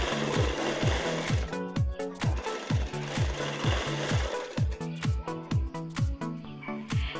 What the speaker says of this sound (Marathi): दोन शिलाई मारते, डबल शिलाई मारून घेते